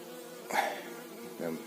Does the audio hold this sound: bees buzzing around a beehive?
yes